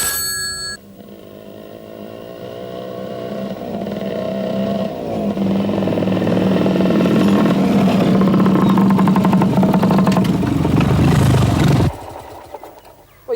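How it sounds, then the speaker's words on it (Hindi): A motorbike engine drones loudly and close, its pitch rising steadily as the engine revs up before cutting off abruptly near the end. "यार ये तो उसी की मोटर बाइक है"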